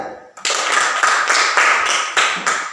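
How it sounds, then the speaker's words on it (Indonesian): An elementary school classroom claps together for a student group, a loud, dense burst of many hands rising in sharp, repeated rhythmic surges close by. "kita tepuk tangan untuk kelompok 3"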